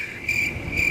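A cricket chirping sound effect runs steady and shrill for under a second, with continuous pulsing trills, fairly faint and alone.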